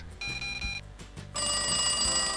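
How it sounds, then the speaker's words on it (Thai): A telephone rings in a Roblox horror elevator game, electronic trilling bursts repeating in a quick pattern, clear and alone, ending in a sustained ringing tone. "เสียงโทรศัพท์ใครโทรมาเนี่ย"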